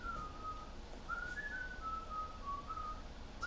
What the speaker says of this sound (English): So basically from there on, I just kept whistling every day